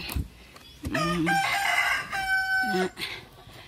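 Chickens at a coop, a rooster crowing loudly twice up close with brief clucks between the calls.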